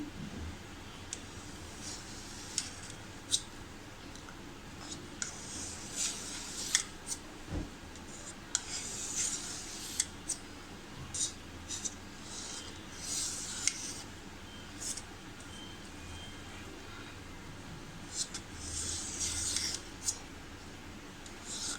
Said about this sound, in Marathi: आता आपण याचे तुकडे पाडूया. आपण याला कापून घ्यायचं आहे.